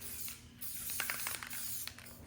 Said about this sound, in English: a little bit of spray adhesive